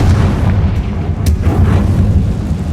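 A Confringo spell in the Hogwarts Legacy video game goes off as a heavy, rumbling explosion, with a dense low boom that holds throughout and a sharp crack partway through.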